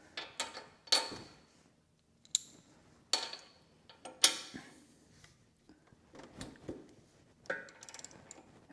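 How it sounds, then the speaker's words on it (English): A ratchet working a spark plug loose from a John Deere 100 series mower engine gives quick bursts of clicking separated by short pauses, close and fairly quiet. "we can take the spark plug out, which is right here"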